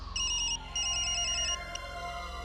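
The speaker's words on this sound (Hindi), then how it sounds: "मॉम का फोन।" A mobile phone ringtone plays an electronic pattern of bright repeating beeps in two bursts, loud and close, with no talking over it.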